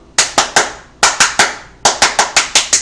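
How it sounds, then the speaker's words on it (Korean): A crowd clapping the 3-3-7 rhythm: three sharp claps, a pause, three more, then a quick run of seven, loud and close with no voices. "337 박수."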